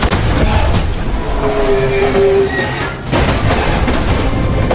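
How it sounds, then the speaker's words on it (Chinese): In a film car chase through a tunnel, rapid bursts of submachine-gun fire crackle through a loud, dense action soundtrack, with a roaring rumble underneath and no clear speech. "小健端起冲锋枪对着后车就是一顿疯狂扫射"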